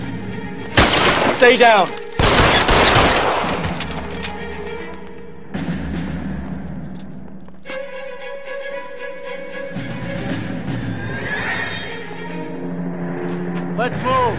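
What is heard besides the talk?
gunfire in the video game L.A. Noire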